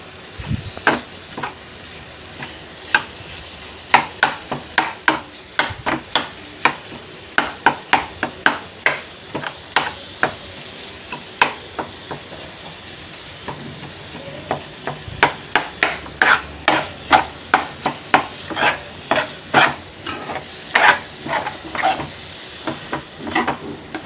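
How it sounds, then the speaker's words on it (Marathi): Curdled-milk bhurji is stirred and mixed in a pan, with rapid repeated scraping and clacking of a spoon against the pan over a soft sizzle, close and rhythmic, speeding up toward the end. "आता मी व्यवस्थित मिक्स करते"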